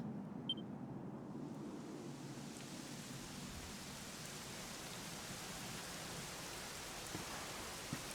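Steady, even video game rainfall from Dragon Quest XI hisses without a break, a soft continuous wash of drops with no voices.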